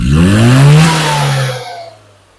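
A Classic Metro 998 engine with an SU carburettor revs sharply on a snap of the throttle, rising loud and close, then falling back toward idle.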